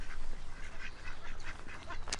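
Pet ducks dumped at a park quack repeatedly in a close, steady series of raspy calls. A louder, sharper call near the end stands out, with no talk over them.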